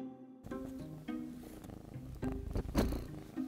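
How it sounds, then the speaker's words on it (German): A kitten purring close and steady for the whole stretch, the soft rumbling vibration running uninterrupted with no voices. "eine von 3 Katzenbabys, die hier einfach aufs Grundstück gesetzt wurden"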